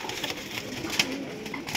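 Pigeon cooing, from a rare cheaply priced breed, comes through as soft, low repeated coos against a faint noisy background, with no one talking.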